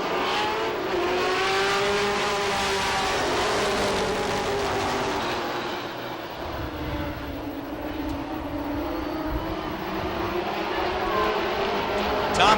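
Pro stock race cars roar away at the start of a heat at Lee USA Speedway in 1993, a loud sustained engine drone with rising and falling pitch sweeps as the pack passes.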